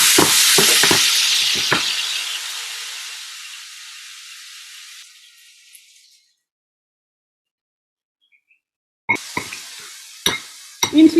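Loud sizzling hiss as glazed vegan ham is lowered into hot frying oil, with a few knocks at the start, the sizzle fading away over several seconds, then silence before clattering handling sounds.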